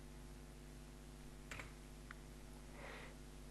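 Quiet keystrokes on a computer keyboard while typing into a Chrome browser, a few separate soft clicks and a short burst of taps over a low steady hum.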